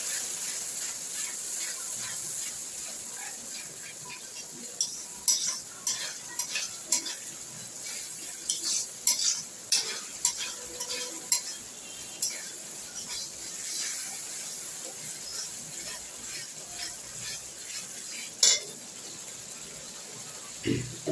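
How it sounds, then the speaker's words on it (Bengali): Ginger and spice paste stir-fried with a little water in a pan for lentil khichuri, a soft low sizzle under repeated sharp scrapes and clinks of a spoon against the pan, with quiet talking in the background. "সামান্য একটু জল দিয়ে আমি মশলাটাকে এবার একটু কষবো।"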